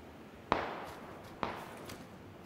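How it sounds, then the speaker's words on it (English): Distant gunfire in the game Sneaky Peaky: two faint, sharp reports about a second apart with short echoing tails, then a softer third pop, heard from far off over quiet surroundings. "a lot of shooting going on over there"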